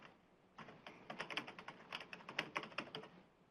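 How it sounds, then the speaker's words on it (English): Someone typing on a computer keyboard, a quick irregular run of soft close key clicks that starts after a short pause, quiet and alone. "I'm going to type in my own address here."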